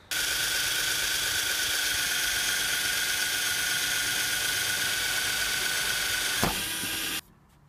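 A power drill whines steadily and loudly as it bores through a van roof for a vent installation, running continuously before a brief sharp snap as it breaks through, then cutting off.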